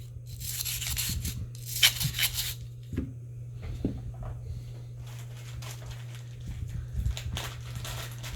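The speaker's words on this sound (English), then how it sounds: "And we want to run our brush in it just a few times." A brush scrubs solvent inside a Ruger TX22 .22 pistol magazine, giving soft, close rubbing strokes in a few bursts over a steady low hum.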